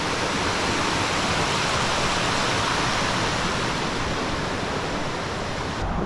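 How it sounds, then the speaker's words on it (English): Mountain creek water rushing steadily on a hike up Mount LeConte, a dense, continuous broadband roar close by with no voices over it. "Here's the creek."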